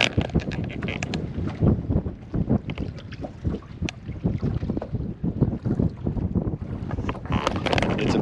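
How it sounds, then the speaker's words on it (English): Strong gusty wind buffets the microphone on a boat fishing Grenada Lake, a loud rushing, blustery roar with water slapping beneath it and no talking. "This is extremely tough wind conditions."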